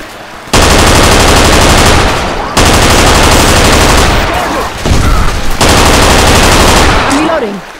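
Rifle fire in Left 4 Dead 2 comes as very loud sustained automatic bursts, three long strings broken by brief pauses, with faint voices underneath.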